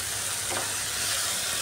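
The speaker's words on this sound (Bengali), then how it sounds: "ডালটা দিয়ে একটু সময় নিয়ে এটাকে ভাজতে হবে।" Mung dal frying in a pan gives off a loud, steady sizzle throughout, close up and continuous, with occasional stirring and no voices.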